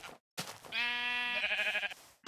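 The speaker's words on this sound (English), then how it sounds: "Come here, sheep." A Minecraft sheep lets out one drawn-out, wavering bleat, clear and close, framed by brief bursts of game noise before and after.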